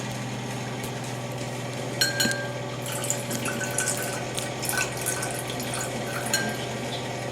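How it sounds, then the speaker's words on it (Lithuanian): Nitrite solution poured into a water sample during a water test, a thin splashy trickle of liquid with faint glassy clinks over a steady background hum, no talking. "Taip pat įpilsime nitrito tirpalo."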